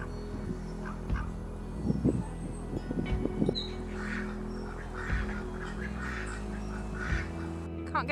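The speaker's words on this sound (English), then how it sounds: "Ducks." Ducks quack near and far along a canal on a summer walk: a short burst of several quacks, then scattered calls over a low outdoor hum, with no talking.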